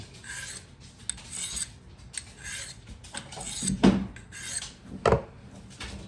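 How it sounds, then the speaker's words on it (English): A knife blade is swiped along a tapered sharpener in a series of short raspy strokes, several quick scrapes with brief pauses, close and fairly quiet. "this bottom here is what I would use to sharpen a knife. Same thing. You're just gonna swipe it."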